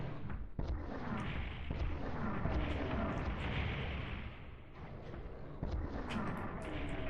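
Rocket fire and explosions in the PlayStation game Final Doom, a dense, loud barrage of booming blasts and bursts that roll on continuously with a few sharp hits.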